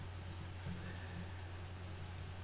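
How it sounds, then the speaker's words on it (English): Steady rain patters softly over a low background hum, a faint continuous hiss with no voices. "It is raining."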